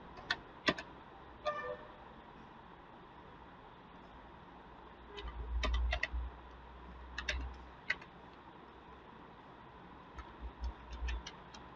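Sparse bursts of crisp clicks from a computer keyboard as someone types a short phrase, with a few quick clustered keystrokes separated by pauses over a faint steady background hum.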